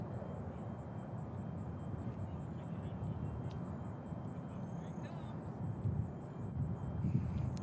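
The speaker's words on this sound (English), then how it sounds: "Runway 2 right, we got American Airlines flight 1814 coming in from Charlotte," An American Airlines jet landing on a runway at Nashville International Airport, heard as a steady, broad engine roar and low rumble that holds throughout and swells slightly near the end.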